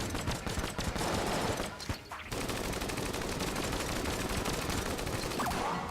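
Dense, rapid gunfire from the video game Enter the Gungeon, a continuous loud barrage of overlapping shots with one brief dip in intensity.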